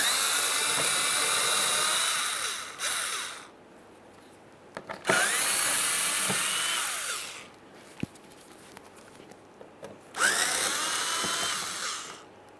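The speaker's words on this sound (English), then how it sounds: "Using our 7mm here, we can remove the mounting bolts" A power ratchet on a 7mm socket spins out mounting bolts while replacing the radiator of a 2013-2020 Ford Fusion 2.0L L4, three loud high-pitched whirring bursts of a few seconds each, separated by quiet gaps with small clicks and handling noises.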